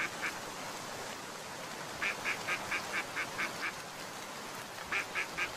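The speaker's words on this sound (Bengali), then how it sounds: "কোথা থেকে আসছে এই হাঁসের ডাকটা?" A cartoon duck quacks by a riverbank in short bursts of rapid, nasal quacks over a quiet, hissy background, with one brief call near the start and two longer runs later.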